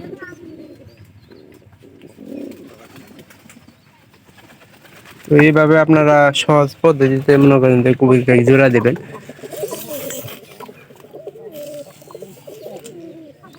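Pigeons kept indoors for pairing coo in a loud, close burst of repeated throaty calls lasting a few seconds, with someone talking quietly before and after.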